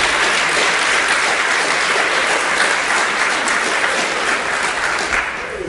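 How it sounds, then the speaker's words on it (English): Audience applause at an evening forum, honoring the staff who organized the event: loud, dense clapping from a large crowd, sustained and steady before easing slightly at the end, with no talk over it. "So will you please help me in applauding their efforts."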